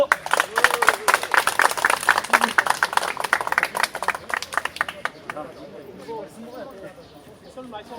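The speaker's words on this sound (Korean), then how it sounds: "박수" Workers at a rally welcoming the end of privately contracted facility management clap loudly in a crisp burst of many hands that fades after several seconds, leaving crowd chatter and a voice speaking.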